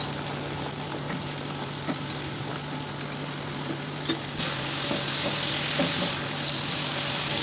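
Potatoes go into a frying pan already holding amudi fish, with the sizzle steady at first and then jumping to a louder, hissier crackle once they land.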